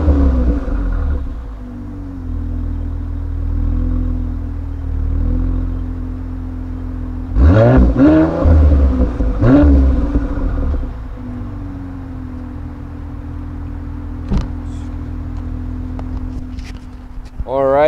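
A 2017 Mercedes-AMG C43 coupe engine idles with a low, steady rumble, then rises in a few sharp, close revs near the middle before settling back to idle.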